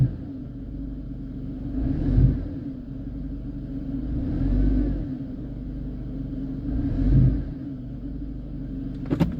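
A 2004 Mercedes C230 W203 with a 1.8 engine idling with a low steady rumble while being shifted between reverse and drive, the engine note swelling in three slow surges, close and without talk.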